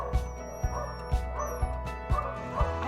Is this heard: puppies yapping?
yes